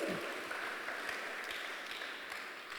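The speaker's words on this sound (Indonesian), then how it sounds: "tepuk tangan buat Kristus" Congregation applause during a church sermon, a steady broadband wash of clapping that holds at a moderate, somewhat distant level and slowly fades across the moment, with no talking over it.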